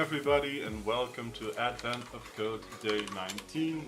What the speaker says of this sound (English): so if you hear some extra typing in the background